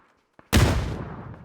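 Gunfire and grenade blasts in a PUBG esports match: a loud burst of shots begins abruptly after a faint tap, then rolls on as dense, continuous fire that slowly thins out.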